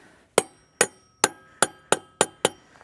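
Seven sharp hammer blows at an even pace, each a bright metallic knock ringing briefly, close and loud with no talking.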